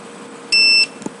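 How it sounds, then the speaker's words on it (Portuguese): A Spectra Precision SP60 GNSS receiver gives a single short, loud electronic beep of about a third of a second, clear and alone against a quiet background. "pressiono, mantenho pressionado até o bip."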